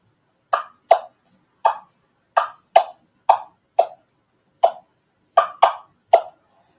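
Wing-bone turkey call producing short clucks that imitate a wild turkey, used for hunting Osceola turkeys. About eleven sharp, close clucks come in loose, uneven pairs and singles with silence between them and no talking.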